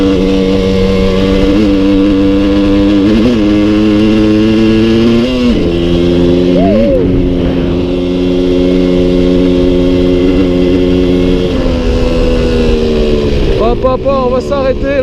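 A Suzuki 125 TSR off-road motorcycle engine hums steadily at close range on a mountain dirt track, its pitch rising and falling as the rider works the throttle, with a brief rev near the end.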